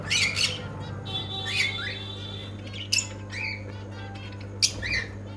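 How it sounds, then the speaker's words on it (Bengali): Lovebirds in a pigeon and bird shop in Purba Medinipur give sharp, shrill squawks and chirps in scattered bursts over a steady low background hum, with no talk. "এখানে দেখে নাও কিছু লাভবাট আছে"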